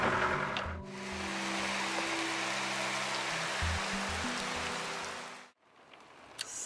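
Heavy rain drums steadily on the roof of a parked van in a wet spot, a dense loud patter lasting about five seconds before cutting off abruptly into quieter background noise.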